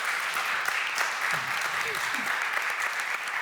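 Steady applause from an audience at a panel on LGBTQ acceptance, continuous and even, with a voice briefly audible beneath it.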